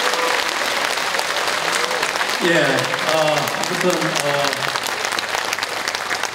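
Concert audience in a large auditorium hall applauding steadily throughout, a dense continuous wash of clapping, with a voice speaking over it partway through.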